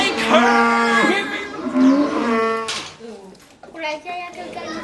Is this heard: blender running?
no